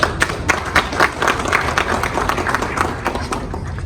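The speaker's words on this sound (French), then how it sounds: "je vous demande un grand applaudissement" An audience at a Human Rights Day ceremony applauds with a moderately dense stream of claps, some individual hand strikes standing out, fairly close and steady throughout.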